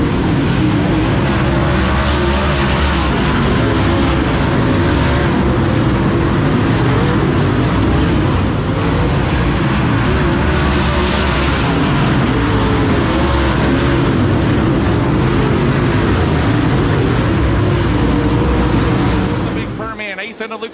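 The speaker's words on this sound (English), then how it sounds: "that new Longhorn race car?" Loud, continuous roar of race cars on a dirt track throughout, with commentary running over it, fading off abruptly at the end.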